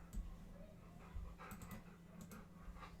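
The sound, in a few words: dog panting and whimpering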